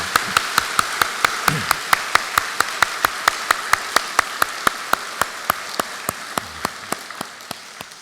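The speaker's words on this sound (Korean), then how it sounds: "우리 다시 한번 기쁨의 박수를 나누겠습니다" A church congregation at a dawn prayer service claps together in a slow, steady unison rhythm, each sharp clap evenly spaced and gradually softening toward the end.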